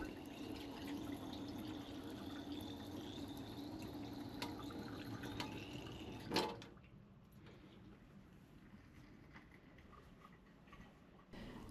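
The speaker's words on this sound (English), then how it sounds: "We now have running water," Hot water running from a tap inside a caravan, a steady splashing flow that cuts off abruptly partway through, leaving faint drips and quiet room sound.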